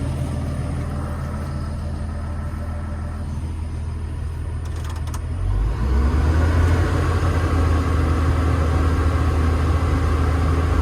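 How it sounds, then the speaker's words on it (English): A diesel machine engine with 10,000 hours, just repaired for a bad injector, runs close by. It idles at first, then rises to a louder, deeper, steady running note partway through, with no one talking. "the engine, I think you'll agree, sounds a lot better"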